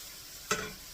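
Chili with onions and spices stirred in a pot over heat, giving one short scraping stir with a brief sizzle over a steady low background hiss.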